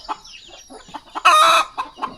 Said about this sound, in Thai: โอ้ไก่หลายแท้เนาะ